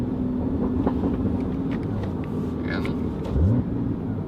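Steady cabin rumble from a 2016 Porsche Cayman GTS with 340 hp and a manual gearbox, with one short rising throttle blip near the end as the engine rev-matches a downshift in Sport Plus mode.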